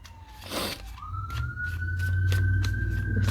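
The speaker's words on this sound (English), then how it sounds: "Excuse the siren in the background there." A siren wails steadily in the background, rising then holding a long high tone, with rumbling traffic noise beneath it.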